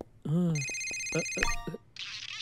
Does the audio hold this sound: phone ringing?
yes